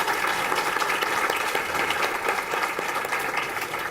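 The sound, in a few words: audience applause for calendar honoree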